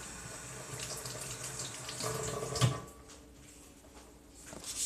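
Kitchen tap water running steadily into a sink while strawberries are washed, a continuous splashing hiss with a brief knock in the middle and a slight lull before the flow strengthens again.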